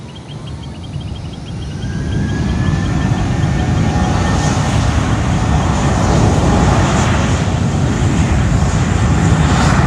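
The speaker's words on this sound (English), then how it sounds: "now we have JetBlue 1890 heading to Newark on the A320 in the Blue Requa livery. Now taking off from the north side at runway 8." JetBlue Airbus A320 taking off from runway 8, a loud broadband engine roar that swells and then holds steady, with a rising turbine whine heard from a nearby spotting position.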